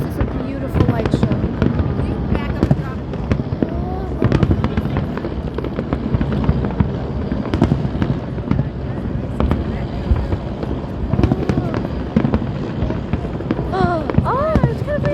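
Fireworks burst continuously during a long outdoor display, a dense barrage of loud booms and crackles, with people talking and exclaiming over the noise.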